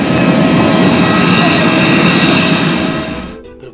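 A passenger airplane flying into Cusco, Peru, heard from inside the cabin as a loud, steady engine roar that holds evenly and then fades out near the end.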